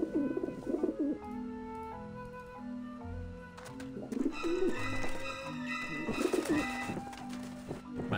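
Pigeons coo in Grim Fandango Remastered, with repeated soft throaty calls close by over layered game music and ambience, and several coos overlap through the middle and end.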